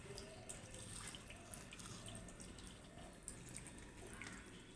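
Tap water runs steadily for the whole stretch, a moderate continuous splashing stream into a basin with scattered brighter drips, near and alone, while a cat pokes around the water looking for fish.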